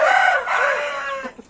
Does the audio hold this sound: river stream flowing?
no